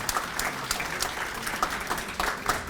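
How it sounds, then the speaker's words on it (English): At a media awards event, an audience applauds the new administration with a sustained round of moderately loud, steady clapping from a crowd. "Let's give the new administration a big round of applause."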